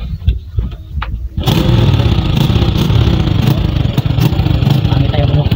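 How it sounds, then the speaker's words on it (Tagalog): A motorcycle with a large hole in its exhaust muffler starts up after brief sputters, then runs loudly and close at a rough, raspy idle that continues unbroken. "Kasi malaki na yung butas sa tambutso niya. Kaya yun ang tunog niya pag pinapandar."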